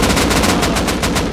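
Rapid automatic gunfire in the survival game Rust, a dense continuous burst of loud, closely spaced shots filling the whole moment with no pause.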